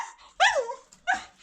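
A dog barks twice, close and fairly loud: a rising, whining yelp followed by a shorter second bark, with a quiet gap between them.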